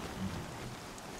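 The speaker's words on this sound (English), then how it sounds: "Rain's too loud to hear much." Heavy rain in the video game Horizon Zero Dawn pours down as a dense, continuous hiss with a low rumbling undertone, loud and steady over the whole brief moment, with no talk.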